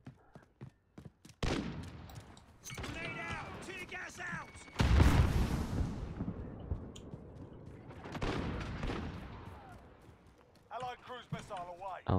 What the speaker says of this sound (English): I love cruise missiles, it's so good.